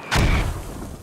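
Mortar shells land in the tactical shooter game Squad, a heavy close thud that swells into a booming rumble and then trails off over about a second.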